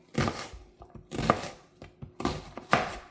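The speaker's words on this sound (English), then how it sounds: "they're telling me to use 2. They're saying 2 is masculine, so I'll use 2 onions." Onions being chopped with a knife on a cutting board, with close, sharp bursts of cuts coming in quick clusters about every second, alone with no talk.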